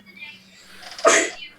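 A single sharp sneeze bursts out close by after a brief quiet intake of breath, loud and abrupt.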